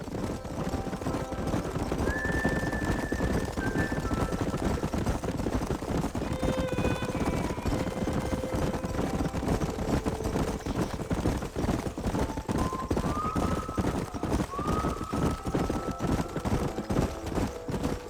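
Horses gallop with steady, close clip-clop hoofbeats in the Red Dead Redemption video game, while several drawn-out whinnies and neighs ring out over the running for a long stretch.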